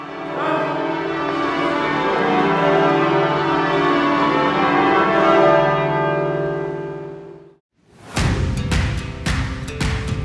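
Cathedral church bells ring loudly in a sustained, overlapping peal of rich tones for several seconds, then cut off briefly before a brighter, clangier burst of struck bell strokes resumes.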